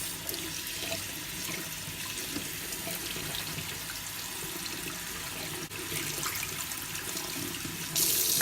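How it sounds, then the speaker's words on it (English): Parboiled rice rinsed in cold water under a running kitchen tap into a sink, a steady close hiss and splash of water with a brief shift in flow near the end. "And then rinse it."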